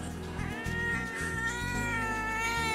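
A grumpy house cat meows repeatedly, drawn-out whiny cries close to the microphone, over faint background game music.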